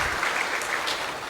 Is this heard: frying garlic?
no